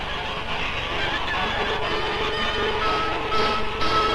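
Geese honk from a vintage 16mm educational film soundtrack, a steady flock clamor over a constant film hiss with no voices.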